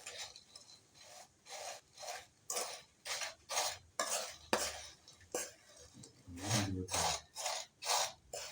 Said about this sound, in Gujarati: ગુંદ આવી રીતના મિક્સ કરી લેવાનો છે હરખી રીતના મિત્રો બધા